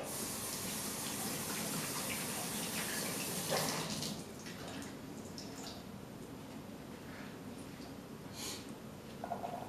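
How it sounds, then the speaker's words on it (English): Blueberries being rinsed under a running kitchen tap: a steady rush of water that is louder for the first four seconds, then drops to a softer, continuing trickle. "I'm just going to wash the blueberries"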